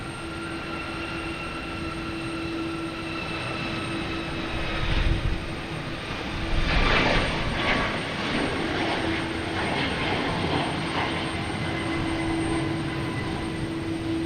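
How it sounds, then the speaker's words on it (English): Southwest Airlines airliner taking off at Boston Logan, a sustained engine roar with a steady whine, swelling slightly midway and holding, heard from a distance. "We have a Southwest taking off, flight 3670 heading to St."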